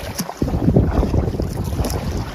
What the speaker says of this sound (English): I got winds gusting behind me